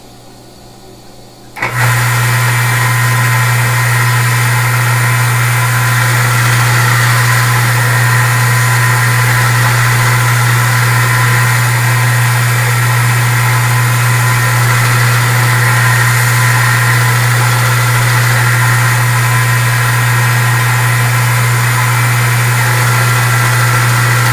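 A homemade belt grinder, not a 2x72, starts up and runs loudly and steadily for over twenty seconds with a strong constant hum and broad whirring noise, close by and without speech.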